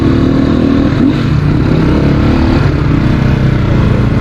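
A CrossFire dirt bike being ridden on a rough trail in Nepal, its engine droning loud and steady at close range, with a slight dip in pitch near the middle and no talk.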